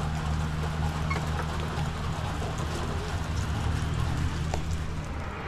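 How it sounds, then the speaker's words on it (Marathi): Light, steady rain falls as a continuous soft hiss at a roadside tea stop near Ausa fort, with a low hum underneath. "तिथे अचानक पाऊस सुरू झाला, बघू शकतात,"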